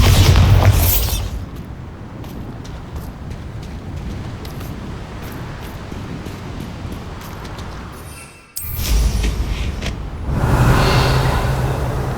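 A Bombarda spell explosion in Hogwarts Legacy opens with a heavy boom that rolls into a long low rumble, then a fresh sharp burst strikes near the end, followed by another swell of blast noise.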